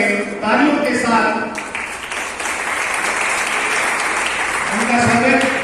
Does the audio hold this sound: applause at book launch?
yes